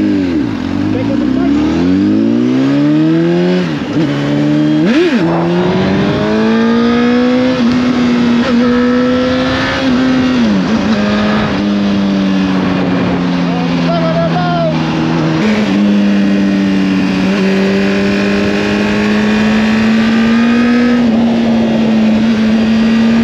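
A 2004 Honda CBR1000RR sport motorcycle being ridden, its engine droning loud and close with rising and falling revs through gear changes, steadying into a sustained cruise.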